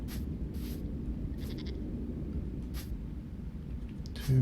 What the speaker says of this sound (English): Two goats there.